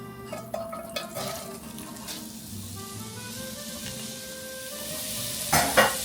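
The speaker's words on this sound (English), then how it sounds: "we're going to add our onion to the sizzling oil." Onions sizzling in hot oil, a steady crackling hiss with a few scraping stirs and clinks, no voices.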